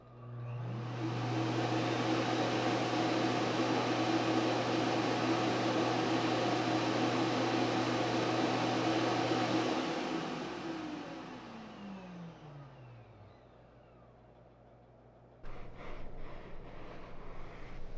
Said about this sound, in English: let's take a listen to how loud the self-emptying bin is and how long it takes for it to activate